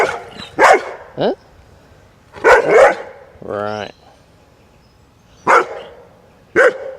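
A Bernese Mountain Dog lets out several loud, sharp barks spaced a second or two apart, with a person talking briefly between them.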